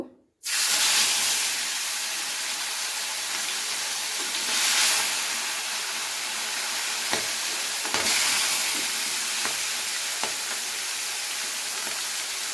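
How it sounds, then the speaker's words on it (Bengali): Koi fish drop into smoking-hot oil and fry with a loud, dense sizzle that bursts in abruptly and holds steady, with occasional small pops and clicks of the pan nearby. "তো এই পর্যায়ে আমি মাছগুলোকে এক এক করে ভেজে নেব"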